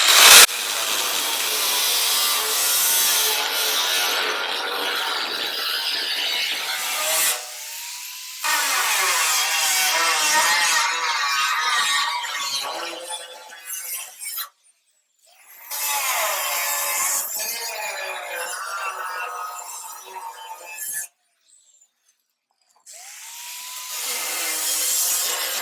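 A truck fender on a cab-over custom build being cut off with a power tool, giving a loud, harsh, buzzing cut in several long passes separated by brief silences.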